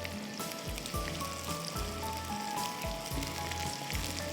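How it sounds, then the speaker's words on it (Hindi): Curry masala sizzling in a pan over a high flame, a steady crackling fry like rain on a surface, close and continuous with no voices. "तेज़ आंच पे फ्राई करें 2 से 3 मिनट"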